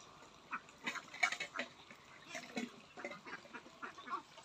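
Ducks on a duck farm call in repeated quacks and honks, several birds at close to moderate distance, irregular bursts throughout with no speech.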